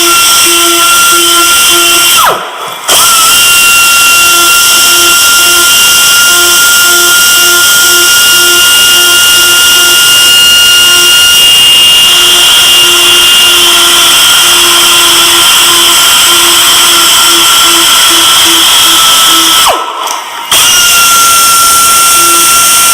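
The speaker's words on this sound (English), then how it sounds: "Deburring tool." A deburring tool bevels the edge of a car bumper ahead of a plastic weld, giving a loud, steady whirring hiss with a faint rhythmic tick. It cuts out twice for short pauses, with nobody speaking.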